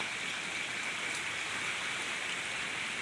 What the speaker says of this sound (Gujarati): અને વરસાદ જો હજી ચાલુ જ છે